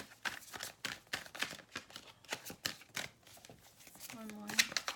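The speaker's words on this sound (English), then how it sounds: "Just doing a bit more shuffling on camera for those who like to see it" Tarot cards shuffled by hand in a series of quick crisp riffling bursts with short pauses, fairly close, while a voice talks softly underneath throughout.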